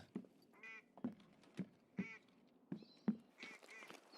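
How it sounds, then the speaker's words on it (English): Duck quacks in Escape from Tarkov, a series of short nasal honking calls repeated at irregular intervals, moderately close and alone with no talking. "Hear another duck."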